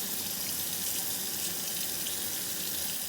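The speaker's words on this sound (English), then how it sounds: "So I will be washing my hands. Make sure you get them nice and rinsed off." Running faucet water splashing steadily into a sink while hands are washed and rinsed, a constant, close hiss of flowing water with no voices.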